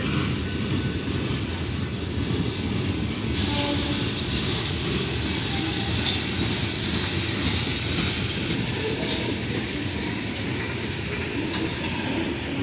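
Union Pacific locomotive 8918 leading a southbound ETRX coal train in the Powder River Basin, a steady, loud rumble and rolling clatter of heavy cars passing close by throughout, with no talking.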